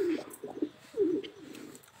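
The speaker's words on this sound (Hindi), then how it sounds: "ये जंगली कबूतर जो आ रहे, मुझे ऐसा लगता है ये फीमेल कबूतर है" Soft, low coos of a wild female pigeon repeat in short rounded phrases, close by, with faint bird chirps in the background.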